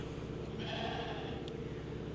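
Sheep penned on a farm give a single drawn-out, fairly faint bleat partway through, over a constant low rumble of background noise.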